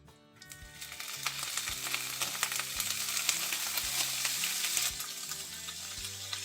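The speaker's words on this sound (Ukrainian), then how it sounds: "Креветки вже такі сухенькі, сухенькі на пательню, розігріту, де олійка." Loud continuous sizzling and crackling of shrimp frying in hot oil in a pan, rising quickly and staying busy throughout, with faint background music underneath.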